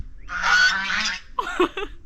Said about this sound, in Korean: 왜 거위를 키워